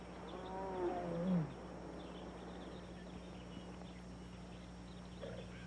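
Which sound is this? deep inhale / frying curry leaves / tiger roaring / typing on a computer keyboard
tiger roaring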